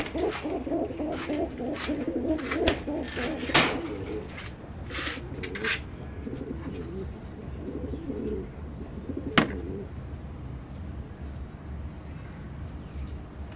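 Domestic pigeons coo in soft, repeated low rolls, close by, throughout, with a louder burst of calls near the start and a sharp knock partway through.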